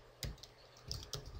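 Code is typed on a computer keyboard in a Unity3D programming session: a few quick, close keystroke taps in a short burst against a quiet room.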